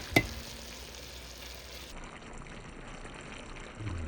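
Pork humba, a Bisaya pork stew, cooks in a pan with a faint, steady sizzle and a brief clink near the start; no one speaks.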